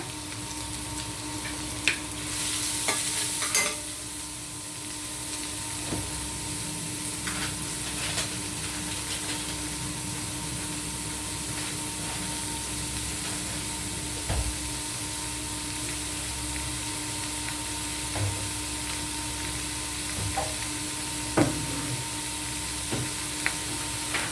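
Garlic, ginger and tomatoes sauté in a pan, a soft, steady sizzle and hiss running throughout with occasional light stirring knocks, close but fairly quiet and without speech.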